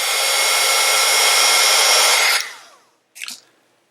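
An embossing heat tool melting powder on paper blows with a loud, steady rushing hiss for about two seconds, then winds down, followed by a single brief scuff.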